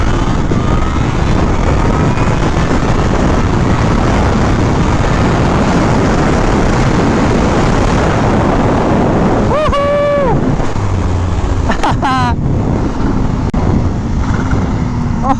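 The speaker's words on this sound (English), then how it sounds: "Oh, the downshift with the flutter. That's the nice thing about not having a loud exhaust, is that you can hear the supercharger way better." A supercharged Kawasaki ZH2 motorcycle with a quiet exhaust is ridden almost to a stop, and a brief engine blip on the downshift cuts through heavy, constant wind roar over the microphone.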